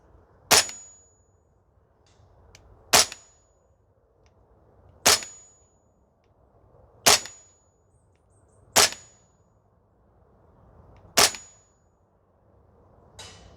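Sig Spear LT 11.5 gas blowback airsoft rifle fires seven single shots at an outdoor range, each a sharp snapping crack with brief metallic ring, spaced roughly two seconds apart and clearly heard alone.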